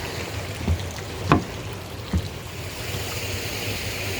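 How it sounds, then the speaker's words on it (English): Garden waterfall at the Hillwood Estate in Washington D.C. gives a steady, even wash of falling water, with a few soft thumps breaking through the constant rush. "You see the waterfall goes all the way up there."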